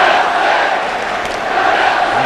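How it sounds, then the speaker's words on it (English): A big football crowd in a 1970s stadium roars behind Chelsea during an FA Cup tie against Ipswich as a corner is taken, a broad steady wall of cheering and chanting. "And the crowd again getting behind Chelsea as Hudson takes the corner for them."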